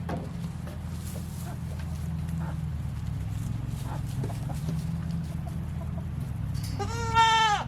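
Goats being fed hay, with a low steady background hum and scattered small rustles, then one clear goat bleat near the end.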